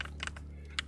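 Typing on a new computer keyboard during a TETR.IO game, with quick clusters of light clicky keystrokes in a short irregular burst, close and fairly quiet, no talking.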